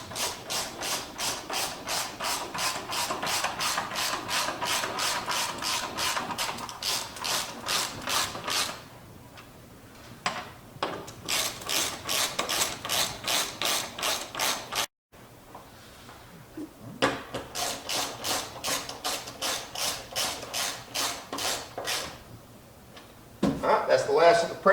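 A ratchet spins bolts down for a rear bumper and tire carrier install on a Jeep JK, loud rapid clicking bursts in several runs separated by brief pauses, close up.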